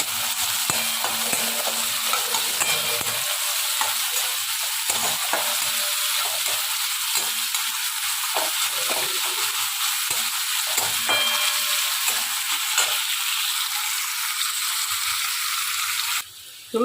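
Chopped onion, garlic and ginger with black cumin frying in a pan give a continuous close sizzle with scattered stirring clicks, easing off slightly before a sharp knock at the end.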